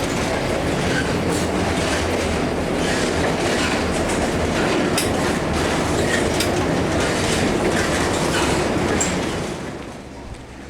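A tram ride through Lviv, heard from inside the car, gives a continuous rolling rumble with rattling and faint clicks of wheels on track. The sound stays steady and fairly loud throughout, then eases slightly at the very end.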